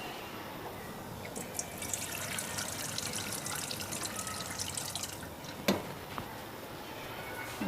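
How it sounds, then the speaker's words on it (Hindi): Water pours into a cooking pot, a soft, steady trickling splash with a brief knock partway through, faint and unaccompanied by talk. "इसमें थोड़ा सा हम पानी और डालते हैं।"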